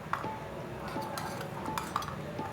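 A metal pot is set down inside a larger cooking vessel over coals while making gola kabab, giving a few light metallic clinks and taps close by over a low background rumble.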